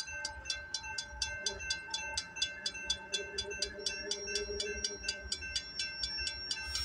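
A train rolls through a level crossing, its wheels clicking in a steady, fast rhythm over the rail joints while the crossing bell rings continuously alongside. It sounds moderately close, with no talking.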